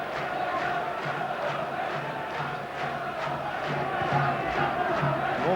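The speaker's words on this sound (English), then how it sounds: "Morecambe's fans haven't seen a day like this in donkey's years. Trying to cheer their side home." Morecambe football supporters cheer at their stadium during an FA Cup second-round match against Cambridge, a broad, steady crowd roar with rhythmic chanting pulses carrying throughout.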